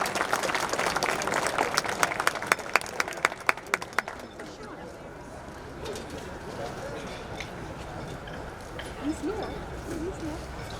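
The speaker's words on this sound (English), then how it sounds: "A round of applause for our Diman administration team." An audience at an outdoor groundbreaking ceremony claps for about four seconds, a dense burst of applause that dies away into quieter crowd murmur with birds chirping in the background.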